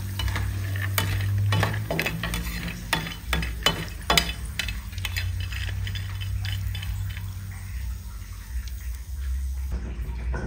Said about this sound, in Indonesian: Sekarang kita goreng cabenya nih ya.